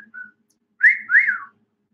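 A bird whistles a short tune: a brief opening note, a pause, then two rising and falling whistled phrases, clear and close.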